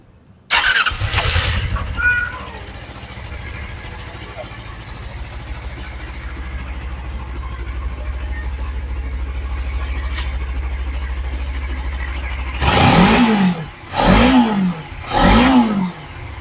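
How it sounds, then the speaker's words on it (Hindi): A Suzuki Inazuma 250 motorcycle engine cranks and fires up, settles into a low steady idle, then revs sharply three times near the end, loud and close. "अपनी ज़रा बाइक का साउंड तो टेस्ट करवाएं ज़रा"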